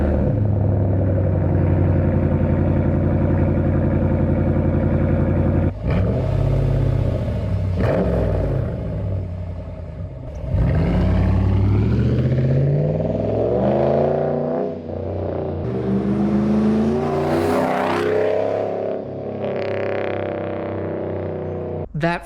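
A Ram pickup truck with a 5.7 V8 idles with a deep rumble, then revs up and settles back in several loud, nearby pulls.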